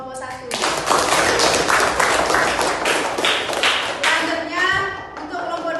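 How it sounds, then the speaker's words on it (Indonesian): A classroom of children claps in rhythmic, brisk bursts for the first discussion group, steady and close, with a few voices chattering underneath. "Silakan kita berikan tepuk tangan untuk kelompok 1."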